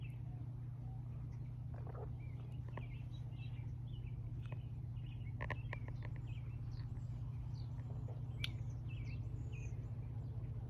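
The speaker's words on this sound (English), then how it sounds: "Hear the birds." Faint bird chirps scattered over a steady low hum on an outdoor patio at golden hour, soft and distant, with no one talking.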